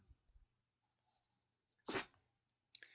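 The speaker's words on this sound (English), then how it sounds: "that's my dog sneezing" A dog sneezes once, a sharp, loud burst standing out over a quiet room with faint background noise, followed by a brief softer snort or sniff.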